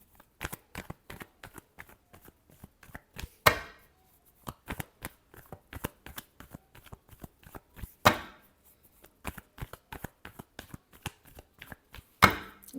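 Tarot cards shuffled by hand, a fast run of crisp riffling flicks broken by short pauses and a few louder slaps, close and fairly quiet, with no talk.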